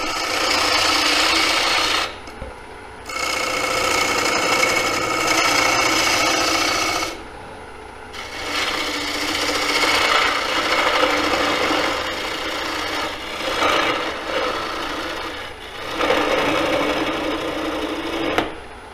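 An Ellsworth gouge cutting wood on a lathe while turning a square bowl, a loud raspy continuous shearing broken by short pauses between passes, close and alone.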